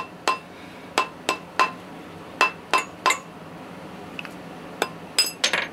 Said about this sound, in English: we're going to knock this off. Just take a hammer or a mallet, rubber mallet, whatever.